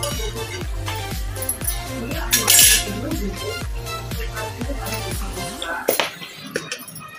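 A lid comes off a pot of moong bhaji and a spoon stirs it, making rhythmic metallic clinks and scrapes against the pot at a steady pace, close up and fairly loud.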